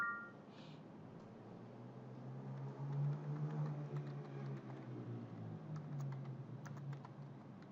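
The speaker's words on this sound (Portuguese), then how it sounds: "Difícil hoje o teclado." Typing on a computer keyboard produces scattered soft key clicks over a low steady hum, quiet and close, with no talk.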